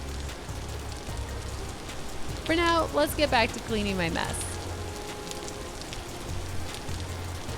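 Steady rain falls in the video game Vintage Story, a constant soft hiss of drops running through the whole stretch while someone talks briefly over it midway.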